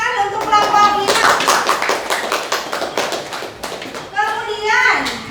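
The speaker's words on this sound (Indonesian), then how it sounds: "Beri tepuk tangan untuk kelompok 5" A grade 7 class applauds a student group, a quick burst of many hands clapping mixed with children's chatter and voices speaking over it.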